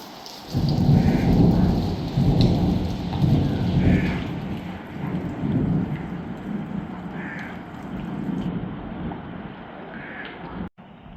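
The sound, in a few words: heavy rain with thunder and lightning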